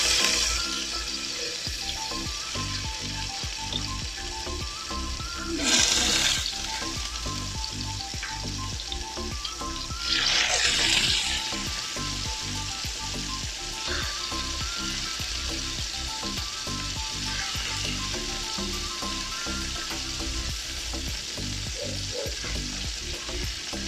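Salmon belly fries in vegetable oil in a pan, with a steady close sizzle throughout and a few brief louder hissing bursts as pieces are stirred.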